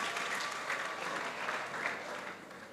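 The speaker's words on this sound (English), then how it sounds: "A round of applause for them, ladies and gentlemen." Sustained crowd applause at a career expo, continuous and even, with a few murmured voices mixed in as it slowly tapers.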